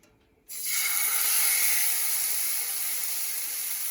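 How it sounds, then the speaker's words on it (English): A sudden loud sizzle of salmon hitting hot oil in a pan on medium-high heat starts after a brief quiet moment, then continues as a steady, bright hiss. "love hearing that sizzle"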